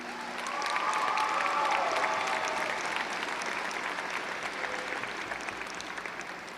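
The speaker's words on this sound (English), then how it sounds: "Graduates, how about a round of applause for all the people who have come here today to support and celebrate you." Audience applause fills the hall at a high school graduation ceremony, a dense, steady clapping that swells within the first second and then holds, slowly thinning toward the end, with faint crowd murmur underneath.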